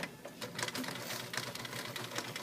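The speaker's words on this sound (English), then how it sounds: "you're going to back stitch." A sewing machine back stitching fabric pillow squares, running in a steady fast mechanical chatter of needle strokes, close and fairly loud, with no talk.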